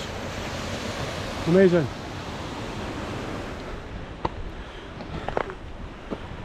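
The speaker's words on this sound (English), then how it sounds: "Crystal clear water falling off the mountains." Clear mountain water falls and rushes on a snowy, windy Glencoe mountainside, a steady broadband roar mixed with wind buffeting the microphone, with a brief spoken exclamation and a few sharp knocks near the end.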